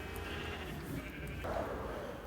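Sheep bleat in Minecraft, a blocky farm game, with animals penned together: one clear, nasal bleat rises over a soft steady game background, with no talk.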